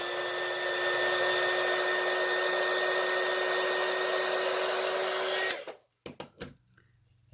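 A hair dryer blows on an alcohol ink flower painting with a steady, loud whirring hum and rushing air, running continuously up close before switching off, followed by a few soft handling knocks.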